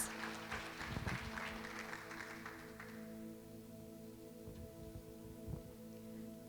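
A church congregation gives a short round of applause that fades after a few seconds. A low, steady hum continues underneath, and a few scattered claps follow.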